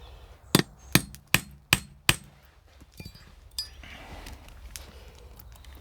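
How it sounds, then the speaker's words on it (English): A hammer drives a sharp centre punch into a curved metal surface, five sharp metallic taps in an even rhythm followed by fainter knocks and quiet handling noise. "Nice sharp centre punch, because you can't drill on a curved surface."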